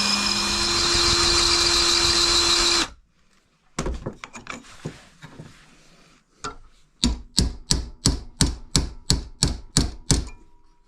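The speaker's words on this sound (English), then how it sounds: "I got a nice new crisp bit for this. I'll just try to gently cut this down." A power tool fitted with a new, sharp bit cuts down a part during top-end assembly of a Yamaha XS650 motorcycle. A loud continuous whine runs for about three seconds and stops, then comes a run of sharp rhythmic clicks and taps that grows steadier toward the end.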